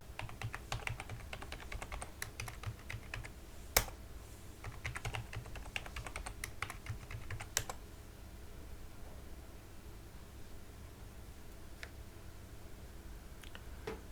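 A password is typed on a computer keyboard in quiet, close, rapid clicks with a few sharper key presses; the typing thins out and stops partway through, leaving faint room hiss.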